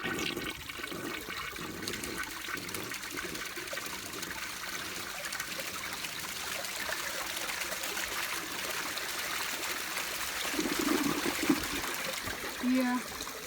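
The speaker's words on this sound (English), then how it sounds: "here's another flush. Let's do a side flush." A vintage 1961 Standard Cadet toilet flushes from the side handle, a steady rushing of water that trickles on throughout, close, with brief faint talk near the end.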